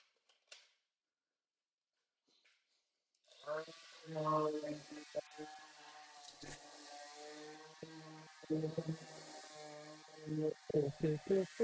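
Electric sander starting up after near silence, then a close, buzzing whir that rises and dips in pitch as it works, with short pauses and restarts toward the end.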